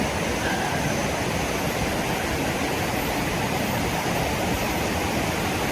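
A river flowing past a riverside campsite in the morning, a steady, full rushing wash of water at constant loudness with no voices.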